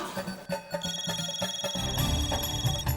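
A telephone rings repeatedly and goes unanswered indoors in a household scene from an Indian TV sitcom, with a steady electronic ring pattern held for a couple of seconds over faint background noise.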